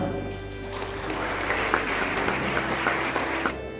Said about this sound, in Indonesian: kita tepuk tangan untuk Tuhan